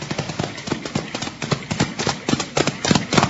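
Several horses arrive at a steady clip-clop in a 1951 Western radio drama, the hoofbeats quick, dense and close, filling the whole stretch with no talk over them.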